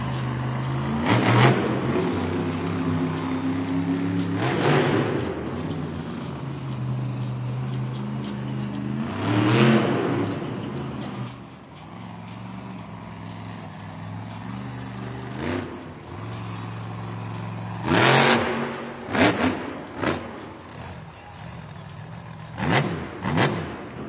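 The Zombie monster truck revs hard in bursts during a Monster Jam freestyle run in a stadium, engine roars rising and falling repeatedly with brief quieter gaps between them.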